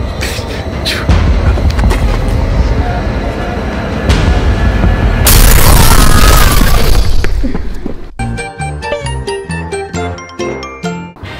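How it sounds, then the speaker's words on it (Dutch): A rotje firecracker set off outdoors on New Year's Eve, heard as loud sharp bangs amid crackling street noise. Bright tinkling, ringing chimes follow near the end. "ik ga gewoon voor het eerst een rotje aansteken"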